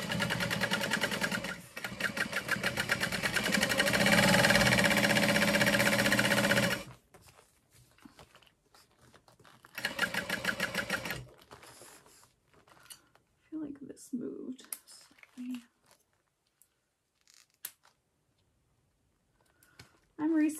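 Sewing machine stitching a strap onto a Zenaida backpack, a loud steady whir of rapid needle strokes for about seven seconds, then a second short burst, followed by quiet handling with brief low voice sounds.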